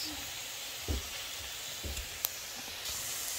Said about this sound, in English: So now I'm still frying my onions and my hot chili or hot pepper